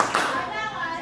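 A brief burst of hand clapping, close and fairly loud, with a lively room tone behind it.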